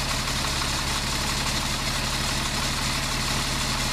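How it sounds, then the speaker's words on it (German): A Mercedes R107 running on LPG gas idles steadily up close, with a continuous low, even engine rumble and no other sounds. "Jetzt läuft er schon auf Gas."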